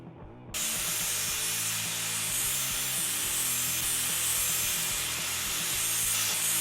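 Gear teeth cut into an annealed axle-steel pinion on an angle grinder milling machine, a loud continuous grinding rasp with a rhythmic pulsing texture, starting abruptly and running steadily throughout.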